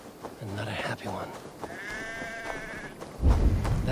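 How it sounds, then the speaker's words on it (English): Distressed sheep bleating in the video game Assassin's Creed Valhalla, a wavering, drawn-out cry heard once at moderate distance with a voice talking just before it and a low rumble just after. "That sounds like a sheep, and not a happy one."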